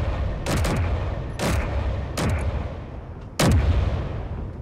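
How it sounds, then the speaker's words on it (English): Heavy aircraft guns fire in a video game, four separate booming shots with falling, sweeping tails, spaced about a second apart and loud. "Hello, guns, shoot, please."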